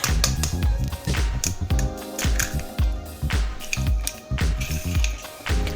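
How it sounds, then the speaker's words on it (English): Two eggs cracked into a bowl and whisked for scrambled eggs, heard as close, wet squishing and rhythmic sloshing clicks of the whisk against the bowl, steady and fairly loud. "For that I will break open 2 eggs into a bowl and I'll whisk it."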